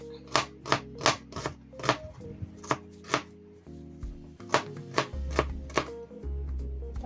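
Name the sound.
knife chopping onion lengthwise on a board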